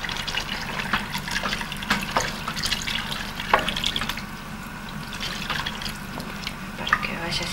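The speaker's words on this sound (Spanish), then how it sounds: "Echamos un poquito de agua." A little water is poured into a hot pan of chicken in tomato sauce in a Jujuy inn kitchen, giving a brief watery splash and sizzle over the continuing frying hiss, close by, while someone talks.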